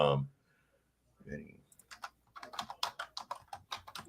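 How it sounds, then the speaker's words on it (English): Fast typing on a computer keyboard with rapid, close clicking keystrokes, preceded by brief speech. "Let me finish typing this thing real quick here."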